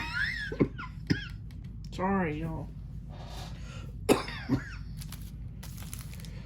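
Several harsh coughs break out at intervals, close and fairly loud, with a brief spoken apology and some throat noise in between.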